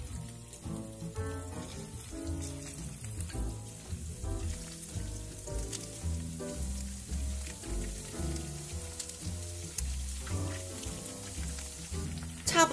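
Beef cubes dropped piece by piece into deep hot oil in a small wok, giving a steady, close crackling sizzle that runs throughout over a soft musical bed.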